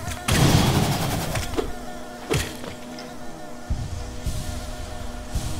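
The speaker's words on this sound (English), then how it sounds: "Busy little bees." Bees in the video game Hollow Knight give a busy, droning buzz with pulsing swells and occasional sharper game sound effects, fairly close and steady throughout.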